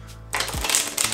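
A deck of cards is riffle-shuffled close by after a brief quiet start, giving a dense, crisp fluttering burst of snapping cards that lasts about a second.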